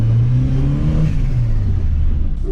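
Peugeot 309 turbo engine, its turbo thought worn out, revving loud and close in a rising then falling drone that fills the short stretch without talk.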